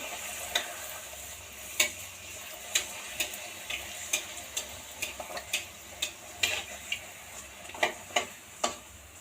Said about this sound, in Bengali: এদিকে এই যে ফটাফট ময়দা মাখিয়ে ভেজে নিচ্ছে লুচিগুলো।